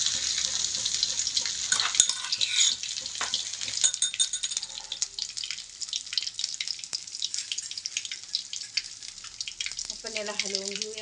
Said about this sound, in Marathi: तर आपली राई आहे ती तडकते, आपण त्यात टाकूया अद्रक लसूणचं पेस्ट.